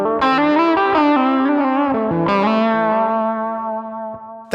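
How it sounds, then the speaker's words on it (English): An electric guitar is played through a Line 6 POD Go with a tape echo set for wow and flutter modulation. Sustained notes ring with a warbling, wavering pitch and a steady loud tone that fades slightly at the end. "you'll hear the wow and flutter can be a very cool modulation effect"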